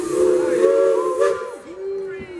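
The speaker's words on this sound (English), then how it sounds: "There's that steam whistle you were waiting for" A Roaring Camp steam locomotive sounds its whistle, a loud, close chord held for over a second with hissing steam, then a shorter second blast that trails off.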